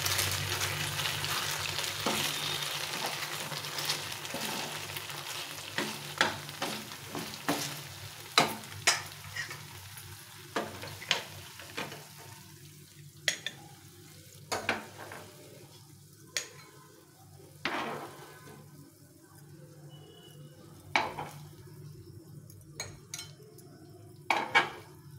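Momo dumplings fry in a pan with a steady sizzle that fades over time, punctuated by repeated sharp clanks of a utensil against the metal pan as they are stirred and turned, with no talking.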